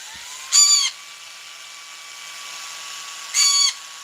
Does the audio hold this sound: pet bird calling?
yes